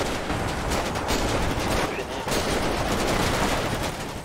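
Dense, continuous gunfire from police officers and a rooftop sniper during a street shootout outside a jeweller in GTA 5, loud and sustained with overlapping bursts throughout.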